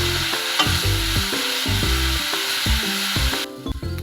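Rambutan pickle masala stirred in a pan just after vinegar goes in, giving repeated rhythmic scraping strokes over a soft sizzle that cuts off near the end.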